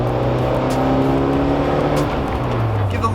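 A Toyota AE86 Corolla's engine revs while driving, heard from inside the car as a loud, close drone that holds steady, then drops and climbs again with a gear change.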